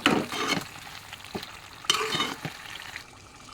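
Ginger, garlic and masala being stirred as they fry in a pan, a soft sizzle broken by scraping strokes of the spoon at irregular intervals, close and moderately quiet.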